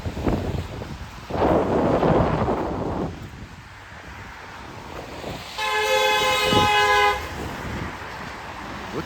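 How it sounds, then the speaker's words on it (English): A car horn sounds one sustained, bright honk lasting over a second amid the steady roar of street traffic and wind on a city walk, with no talking. "What the hell was he honking at?"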